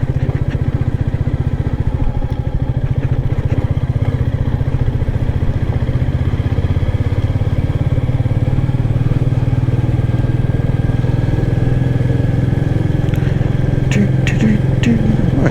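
A Royal Enfield Meteor 350 motorcycle riding along a quiet street, its single-cylinder engine giving a loud, steady, close thumping rumble throughout, with a brief faint rattle near the end.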